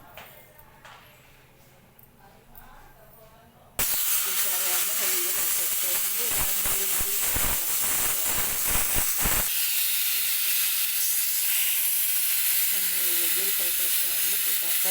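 After a few seconds of quiet kitchen noise, a pressure cooker cooking dal on the stove lets out a loud continuous steam whistle that hisses abruptly and keeps going, with brief rattling bursts partway through.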